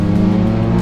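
A Kawasaki Ninja 1000SX motorcycle engine holds a loud, steady, close hum with strong low harmonics, with no talk over it.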